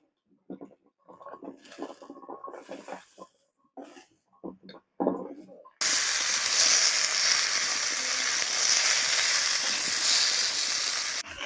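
Drumstick stalks and potatoes with turmeric fry in a pan in a village kitchen: after a few seconds of broken, intermittent noises, a loud, continuous close-up sizzle suddenly starts and holds steady to the end.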